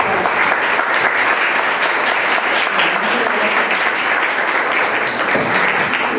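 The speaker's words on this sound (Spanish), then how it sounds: "y denle un muy fuerte aplauso." Audience at a human-trafficking awareness workshop breaks into loud, sustained applause that stays dense and steady throughout, with no break or fade.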